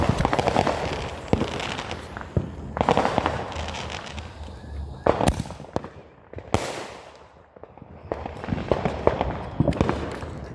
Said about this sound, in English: Look at that firework over there.